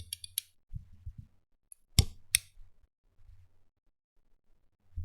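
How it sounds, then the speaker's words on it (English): A pocket multi-tool clicked and snapped by hand, producing a few sparse, close, dry clicks and a sharper metallic snap near the middle, separated by quiet gaps, used as a stamp effect. "This is a multi-tool that I have had"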